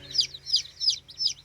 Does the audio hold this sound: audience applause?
no